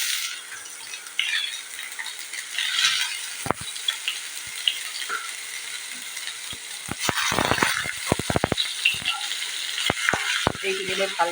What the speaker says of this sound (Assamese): মই এইখিনি হাই ফ্লেমত ভালকৈ ভাজি লওঁ